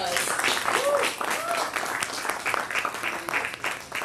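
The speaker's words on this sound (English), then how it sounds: "Let's give them a round of applause." Crowd applause at a ribbon cutting for a taco restaurant in Weslaco, Texas, continuous clapping with brief voices and cheers mixed in.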